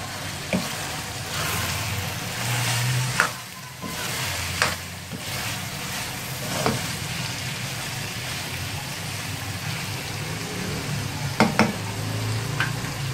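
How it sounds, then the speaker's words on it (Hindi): Minced mutton and potato with masala stir-fried in a pan, a steady low sizzle with scattered scraping stirs and clinks, close and moderate, with no voices. "अब इसकी हम 2 से 3 मिनट भुनाई करेंगे।"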